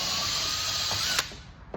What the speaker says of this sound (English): go ahead and drill out the hole until it gets buried at